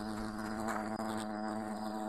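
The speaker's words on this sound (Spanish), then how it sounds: "Ay, hay una abeja por aquí." Bee buzzing in the video game Fable The Lost Chapters, a continuous droning hum with wavering pitch, close and steady, layered over quiet game ambience.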